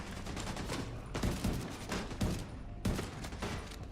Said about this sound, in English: And that's my shotgun.